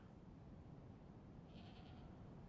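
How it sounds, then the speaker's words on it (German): Sheep bleats in the survival game DayZ, a short run of wavering cries rising at a distance over steady broadband wind and ambient noise, with no talking. "Ich höre ein Schaf."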